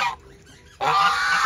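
A goose gives a short honk, then after a brief pause a louder, sustained honking call rings out close by, with no other sounds.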